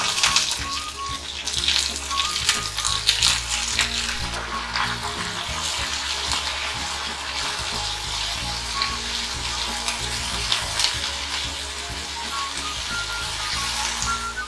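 Cauliflower goes into mustard seeds, urad and chana dal sizzling in hot coconut oil for a thoran, with a steady loud frying hiss, stirring scrapes and faint splashes of water.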